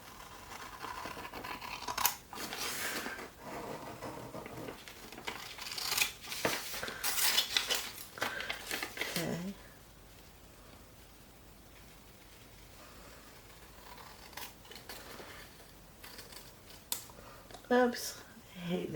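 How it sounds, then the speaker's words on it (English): Scissors cutting paper for a handmade craft basket: repeated crisp snips and paper rustling up close, followed by a quieter stretch with a few scattered sounds. "now we're going to cut this piece out"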